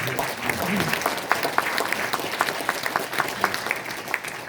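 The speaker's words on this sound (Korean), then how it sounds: "박수 한번 해주세요" Crowd at a Korean lawmaker's 2024 report meeting in Daejeon applauding, a full room of clapping with sharper individual claps popping out, steady and fairly close, with a brief voice early on.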